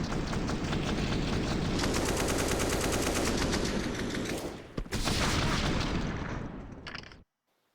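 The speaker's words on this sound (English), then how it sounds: "Just a lot of AK-47 fire going through the smokes." Sustained AK-47 fire in Counter-Strike on the Inferno map during a pro match, rapid automatic bursts loud and dense for several seconds, a brief break, then more shots before cutting to silence.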